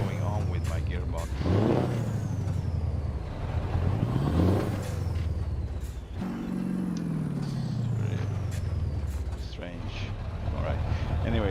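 Scania 730 V8 truck in a trucking game, a deep engine drone that rises and falls through gear changes with revving sweeps, while someone talks over it.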